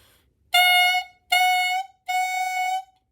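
Three sustained clarinet notes, each starting with a crisp tongued attack and separated by short silences.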